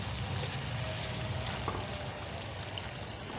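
Boiled urad (maash) dal tipped into a karahi of oil-separated fried masala, dhaba style, giving a steady, dense sizzle and crackle close by with no talk.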